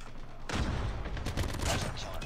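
Dense, loud gunfire from Call of Duty Mobile erupts suddenly and keeps up as a continuous rattling barrage, with a voice faintly mixed in.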